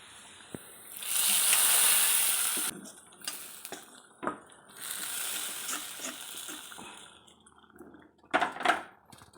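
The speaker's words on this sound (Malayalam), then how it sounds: "നമുക്കൊന്ന് ഇളക്കി കൊടുക്കാം കേട്ടോ" Fried onions stirred into an egg kurma curry in a pan with the flame turned off, giving a soft sizzle and scraping clatter, with a sustained louder sizzling burst early on and scattered clinks and taps after.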